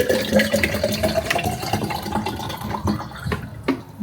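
Water being poured or run into a container while getting a drink ready for a small child, a steady splashing trickle that fades out toward the end, with a few faint clinks.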